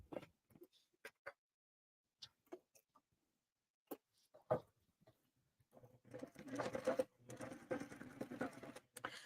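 Sewing machine stitching a tote bag lining: scattered brief clicks and handling taps at first, then a steady, fairly loud mechanical whir of stitching for the last few seconds, close by.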